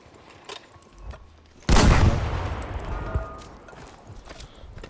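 A single loud, close gunshot boom from the Battlefield V Firestorm video game that decays over about a second, with faint clattering game ambience before and after it.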